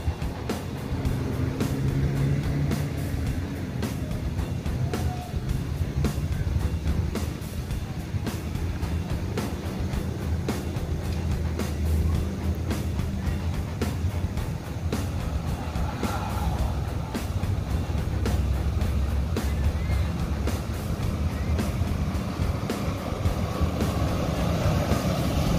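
Buses driving along a road, a continuous heavy engine rumble with passing traffic noise throughout and no clear breaks.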